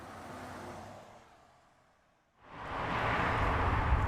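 Fast-moving cars rush past on a road, one whooshing by and fading away, then a brief lull before another swells in loud and close, a broad roaring hiss with no voices.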